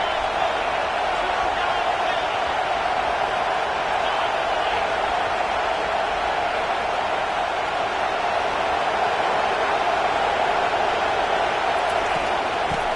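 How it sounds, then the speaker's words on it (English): Steady roar of a football stadium crowd at a college game, a dense, unbroken wash of noise at constant level with no distinct cheers standing out. "This crowd trying to make life miserable for this offense."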